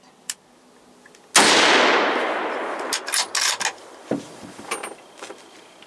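A single loud rifle shot cracks out during a Wisconsin gun-season deer hunt and rolls away in a long decaying echo across open ground, followed by faint rustling and small movements nearby.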